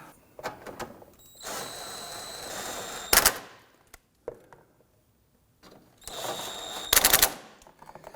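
A power tool snugs bolts down while a Ford Focus alternator is replaced, giving a few short bursts of rapid rattling impacts separated by pauses, close and loud.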